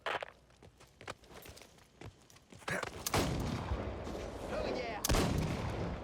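Mortar fire in the video game Back 4 Blood, with a string of sharp thuds and booms building into a sustained rumbling barrage, a loud blast near the end, under faint talk.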